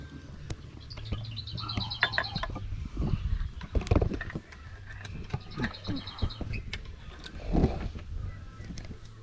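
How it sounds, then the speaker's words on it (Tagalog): Birds chirp in repeated bright trills outdoors at a Filipino home, moderately close, mixed with knocks, clatter and scattered background noise. "Ang sarap ng huni ng mga ibon."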